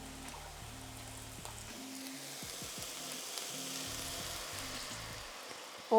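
A honey sauce goes into a hot pan with a soft, steady sizzle at low level. A faint low hum sits underneath throughout, and a brief knock comes at the very end.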